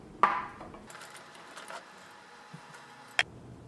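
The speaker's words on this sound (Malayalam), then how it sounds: "ഇനി ഇതിൻ്റെ ഉള്ളിൽ നിന്ന് സ്റ്റീം നന്നായിട്ട് പോയി കഴിഞ്ഞ് കഴിയുമ്പോൾ ഈ കുക്കർ തുറക്കാം നമുക്ക്." A pressure cooker lid is opened after cooking broken wheat, giving a few faint metallic clicks and clunks, with sharper knocks near the start and the end over a quiet background.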